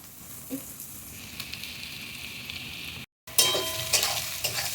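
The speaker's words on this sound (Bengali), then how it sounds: "এবার একটুখানি আবারও নাড়াচাড়া করে নিচ্ছি।" Onion and green chili stir-frying with beans and carrots for chowmein, a fairly quiet continuous sizzle with occasional utensil scrapes, growing louder and brighter after a short gap as the new ingredients hit the pan.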